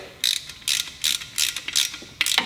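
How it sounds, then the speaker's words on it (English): A 10mm ratchet wrench and socket tightening nuts, giving repeated rapid clicking bursts, about six strokes with short pauses between, close and clear with no talk. "go ahead and tighten them all up. Should look just like that with a 10mm wrench and socket."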